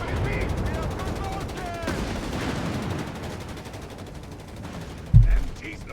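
Machine gun and rifle fire crackle through a Company of Heroes 3 battle between Afrika Korps and US forces, a steady distant rattle under a commentator's talk, ending in one sharp close shot.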